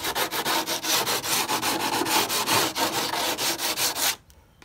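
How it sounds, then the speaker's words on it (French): Edges of a plastic part for a Mazda are deburred in quick, rhythmic rasping strokes, close and fairly loud, about twenty even passes before an abrupt stop into near silence. "on ébavure les bords"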